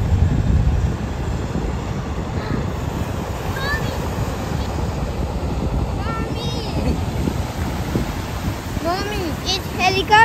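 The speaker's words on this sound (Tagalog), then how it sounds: "Helicopter! Yeah, helicopter." A helicopter flies overhead during a summer outing, a loud, steady low rumble with wind buffeting that holds for about ten seconds while faint high chirps and distant voices come and go.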